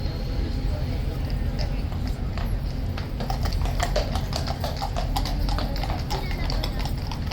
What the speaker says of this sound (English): I don't recognise the horse that's coming in behind.